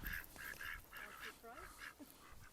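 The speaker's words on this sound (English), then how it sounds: "these are our permaculture ducks in the garden thing" Permaculture ducks grazing around a farm garden give off repeated nasal quacks and honks. The calls are faint and sound from a short distance against a noisy outdoor background.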